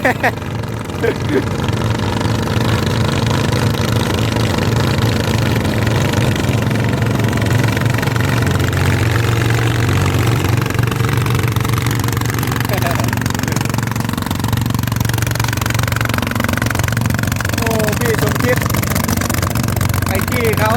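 A car engine idles steadily with a deep, continuous rumble, its revs lifted only gently, on a car said to run sluggishly. Voices talk over the engine noise throughout.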